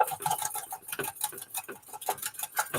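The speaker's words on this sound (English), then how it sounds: "And just beating it with my little spring whisk that I love." An egg being beaten with a small spring whisk, a fast, steady patter of light clicking and tapping strokes, close and continuous with no voices.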